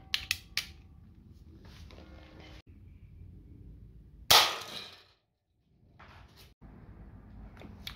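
A Colt Peacemaker BB pistol loaded with 4.5mm steel BBs gives a few mechanical clicks and creaks, then one sharp, loud crack that decays into silence before more faint handling clicks follow.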